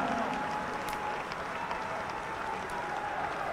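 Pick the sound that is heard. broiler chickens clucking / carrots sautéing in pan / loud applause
loud applause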